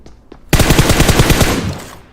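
Automatic gunfire in PUBG Mobile: two faint distant shots, then a loud close burst of about a dozen rapid rounds in a steady rhythm that rings out and fades, with no talk.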